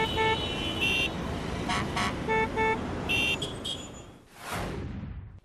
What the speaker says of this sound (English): Does your vehicle have a shrill horn?